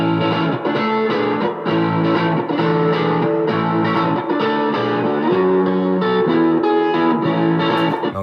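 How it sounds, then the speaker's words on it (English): A re-recorded guitar part panned right in a Logic 9 mix, sitting under a Korg M1 synth part, plays steady distorted, effects-laden chords with sustained harmonic layers throughout, loud and continuous with no talking. "I've also stuck a guitar on the right side that sounds like this,"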